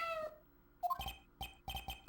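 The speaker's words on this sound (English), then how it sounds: "it sounded like a cat" A cat's meow in the Phoenix Wright: Ace Attorney Justice For All game, one short, quiet cry heard at the end of a transmission, followed by a string of sharp, clipped game sound effects.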